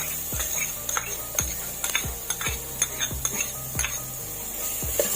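Onions sautéing in a pan with a steady background sizzle, as a utensil knocks and scrapes against the pan in regular strokes, about one per second, close and distinct.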